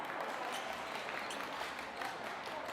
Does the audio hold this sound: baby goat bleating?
no